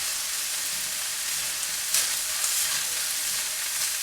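Tomatoes sizzle and fry in a blue carbon steel pan, a steady close crackling hiss with a few brief louder spits, no voices.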